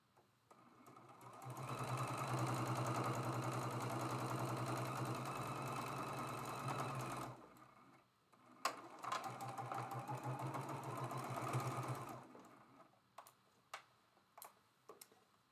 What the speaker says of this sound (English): you'll be able to see that at the sewing machine